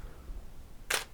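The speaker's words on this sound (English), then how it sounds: "So the shutter opens and closes and it allows 1 second of time." A single crisp mechanical click from a digital camera shutter closing at the end of a 1-second exposure, close and isolated against quiet room tone.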